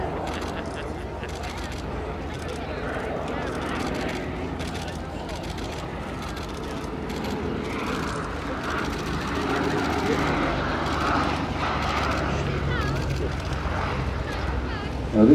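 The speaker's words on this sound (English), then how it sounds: "Let's listen to this sound of this wonderful engine." Steady droning piston engine of a De Havilland DH-9 biplane at the Duxford Flying Legends Airshow, running continuously with wind buffeting the microphone, loud and close, rising slightly in intensity toward the end.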